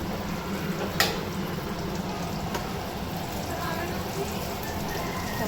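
Slices of pointed gourd (potol) fry in a nonstick pan, a dense, steady crackling sizzle close by, with one sharp clink near the start and someone talking in the background.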